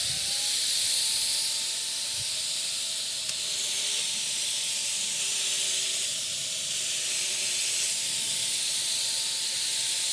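A Wagner FLEXiO 4000 paint sprayer hisses steadily onto cardboard at turned-down air pressure, a loud continuous spray with a faint whining tone, running alone throughout.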